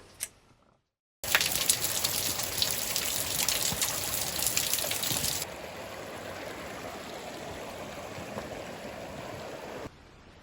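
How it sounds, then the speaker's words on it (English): Rain falls steadily at an off-grid yurt build site in winter, a dense, close hiss of drops that starts abruptly after a brief quiet moment, loud at first and then settling into a softer constant patter. "So the rain came a bit earlier than expected."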